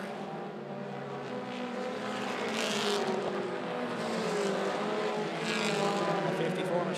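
Mini stock race cars roar around a track in a dense, sustained engine drone that swells as cars pass, with a race announcer's voice running over the noise.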